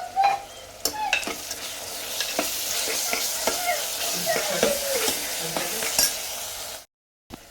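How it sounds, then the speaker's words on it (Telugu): Ginger-garlic-cumin paste frying with softened onions for keema curry, a steady loud sizzle punctuated by repeated sharp scrapes and clinks of a spoon stirring the pan, ending in a brief silence. "అల్లం వెల్లిగడ్డ వేసి కాసేపు వేపాం కదండి."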